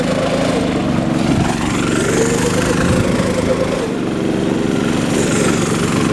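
A go-kart with a live axle and a 6.5 engine, its governor still in place, runs at a steady, rough, buzzing idle close by, loud and continuous, with faint talk in the background.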